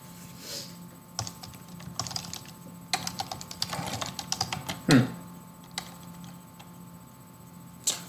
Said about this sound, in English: I'm typing the information to the webpage, man.